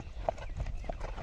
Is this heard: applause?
no